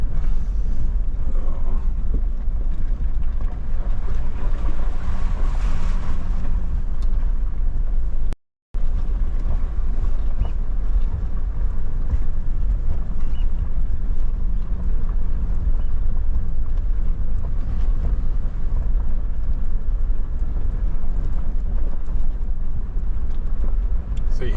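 A four-wheel-drive club vehicle crossing river water in the Lawrence Valley, South Canterbury, with a steady loud rumbling wash of engine and splashing plus wind buffeting the microphone and a brief dropout midway.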